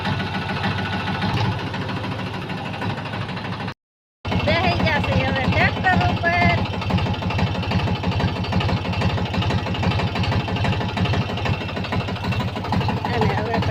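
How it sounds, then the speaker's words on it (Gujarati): A tractor engine idles with a steady low chugging throb, loud and close, running continuously with one brief gap. "ટ્રેક્ટર ચાલુ આઈડલ ઉછી કરે છે"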